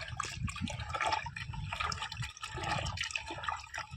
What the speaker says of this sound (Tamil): மருந்து அடிக்கிறதுக்கோஸ்கரம் மருந்து கலக்கிட்டுருக்குறோங்க ஃப்ரெண்ட்ஸ்.